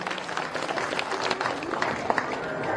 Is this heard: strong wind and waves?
no